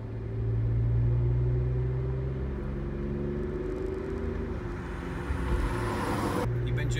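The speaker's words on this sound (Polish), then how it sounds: "Jak ruch pozwala, przyspieszamy do 60 km." A car accelerates to 60 km/h during a driving lesson, its engine droning with a rising, steady hum up close, followed by a sudden shift in tone near the end.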